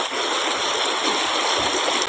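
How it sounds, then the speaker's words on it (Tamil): Waterfall swollen after heavy rain, a steady close roar of rushing, splashing water filling the whole clip with no voices. "எவ்வளோ அருவி மாதிரி இருக்குது பாருங்கள்"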